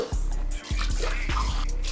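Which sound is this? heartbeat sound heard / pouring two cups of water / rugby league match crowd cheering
pouring two cups of water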